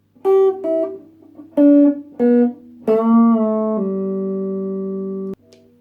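A guitar note from a riff played slowly and bent upward, several plucked notes swelling in pitch then settling, with a long sustained final note that cuts off.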